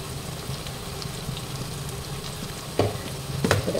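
Tomato and onion fry in a pan as spice powders are stirred in, a steady close sizzle underneath a few scraping stirs and clatters near the end, with no talking.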